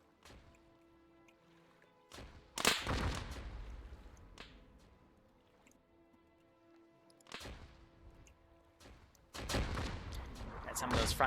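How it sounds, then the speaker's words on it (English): Swivel guns fire in sharp broadband bursts during an Arma 3 War of 1812 naval battle, with loud volleys near 2.6 s, 7.4 s and 9.5 s over a steady tonal background and faint talk. "some of those front swivel guns firing"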